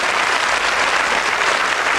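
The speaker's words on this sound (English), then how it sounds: "Round of applause, please." Studio audience applause on the 1993 UK game show Cluedo, a dense, even wash of clapping that stays loud and steady throughout.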